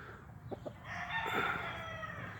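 A rooster crows once at a middling distance, a drawn-out rising call following a few short clucks, fairly faint against a quiet farmyard background.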